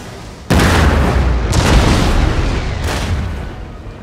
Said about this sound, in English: cannons unlumbered and I'm firing down the valley towards him